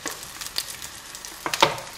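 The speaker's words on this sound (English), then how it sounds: "I'm just doing some onion and rice. That needs a stir as well." Onion and rice sizzle in a pan for a home stir-fry, a low crackle with a few sharp scrapes and clinks as they are stirred.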